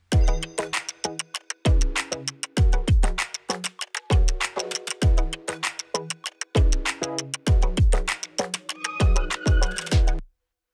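A looping electronic percussion pattern with punchy kicks and clicky hits, its tone shifting subtly from bar to bar as a parameter is swept.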